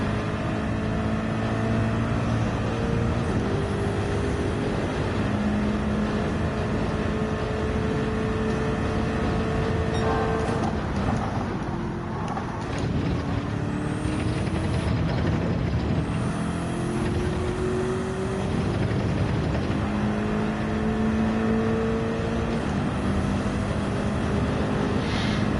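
Race car in Gran Turismo 7 racing on track, its engine droning and rising in pitch through repeated accelerations and gear changes, loud and continuous with tire and road noise, no talking.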